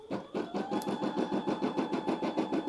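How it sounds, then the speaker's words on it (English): A computerized embroidery machine runs a placement stitch for a custom patch, making a steady, fast, rhythmic needle chatter with a faint motor whine. It sounds close and continuous. "Let's hit the go button and get this first little placement stitch done"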